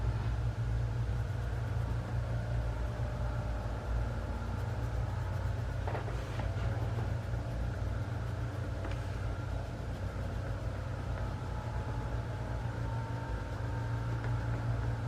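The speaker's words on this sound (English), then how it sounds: "I'm sorry for the noise in the background. I think there's like a blower out there." Steady low drone of a blower running outdoors in the background, constant and fairly faint throughout with a couple of brief clicks, no speech.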